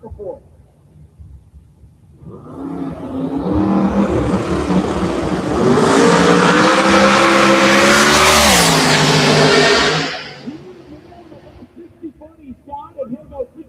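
LS-powered race car making a hard run at a Turn & Burn drag event: loud engine roar builds over a few seconds, holds at full howl with rising pitch, then cuts off abruptly, followed by crowd chatter and voices.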